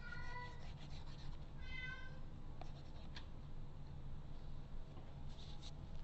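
A pet cat lets out insistent meows, one early and one around the second mark, followed by faint shuffling and rustling over a constant low hum.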